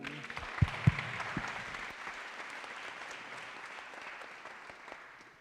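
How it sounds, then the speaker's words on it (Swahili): A crowd at a national youth dialogue event on elections in Kenya applauds, a dense, steady patter of clapping with a few sharp near claps early on, gradually fading toward the end. "Tuwapige makofi."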